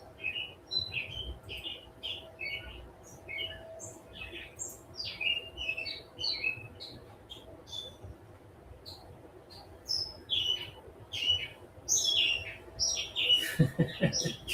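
Blue jays give repeated harsh chirping calls in short bursts throughout, fairly close and moderately loud over a low steady background hum.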